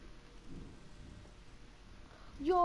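A low rumble of thunder with steady rain in a Minecraft world, soft and distant, with a brief higher game sound near the end.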